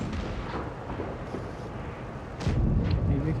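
Tank cannon fire in World of Tanks Blitz, with a heavy boom partway through that is followed by a louder, rumbling tail over continuous game noise.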